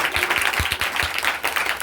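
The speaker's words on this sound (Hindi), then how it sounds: "ऐसा जोरदार ताली बजाइए एक बार" A church congregation claps together during a worship service, a dense, steady wash of applause throughout that stays fairly loud from start to finish, with no talk over it.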